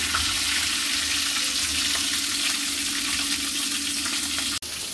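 Fish roe frying in oil in a wok, a steady close sizzle with a watery hiss that runs evenly throughout and cuts off sharply just before the end.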